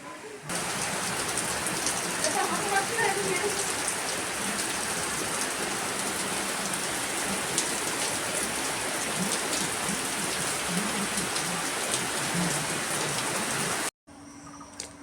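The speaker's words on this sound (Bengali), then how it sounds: "কত জোরে আমাদের এখানে বৃষ্টি" Heavy rain pours at night in a constant, loud wash of hiss, with murmured speech faintly audible beneath, ending in a sudden break.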